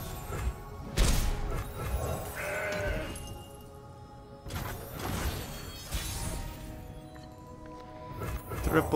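Goats bleat in the digital card game Legends of Runeterra, a few clear bleats mixed with game effect thumps and crashes, heard amid a voice talking over the gameplay.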